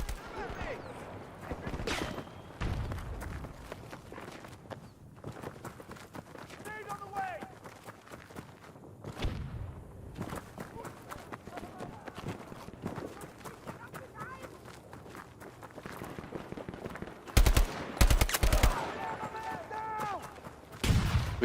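Gunfire in Battlefield 2042 played on Xbox Series X, scattered shots and bursts through a busy game mix with running footsteps, a dense volley near the end, and someone talking over much of it.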